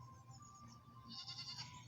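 A male domestic goat in a 3D zoo video game bleats softly, a faint nasal call heard alone over quiet background tones.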